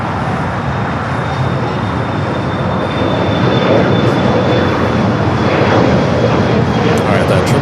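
A Boeing 777 airliner on approach over the 405 freeway near Los Angeles airport makes a loud, steady jet rumble that swells slightly toward the end, with faint radio chatter beneath it.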